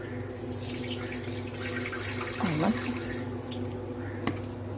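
Water drains out of a pot of soaked cauliflower into a sink, a steady close splashing pour with a short gurgle midway.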